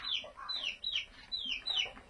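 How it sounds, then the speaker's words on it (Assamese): A chicken that has wandered indoors clucks several times in quick rising calls, fairly faint and close, with short gaps between the bursts and no talking. "মুৰ্গী সোমাল তোৰ পৰা সোমাবলৈ সাহস পালি দেই"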